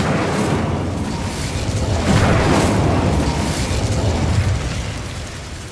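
Incendio fire spell cast in Hogwarts Legacy, a loud, dense roaring burst of flame that swells around the middle and stays broad and sustained for several seconds before easing off.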